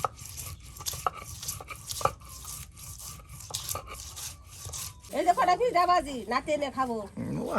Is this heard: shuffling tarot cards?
no